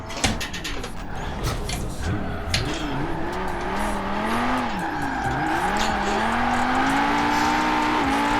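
An Audi RS2 drifting in Forza Horizon 4, engine droning and tires squealing in long wavering howls that rise and fall as the car slides, loud and continuous throughout.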